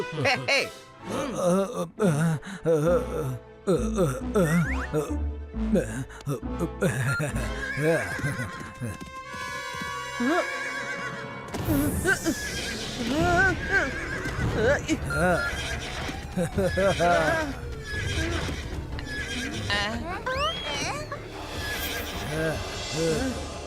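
A remote-controlled duplicate horse lets out a loud neigh over busy background music and effects, with whinnying and clip-clop tags, voices mixed in.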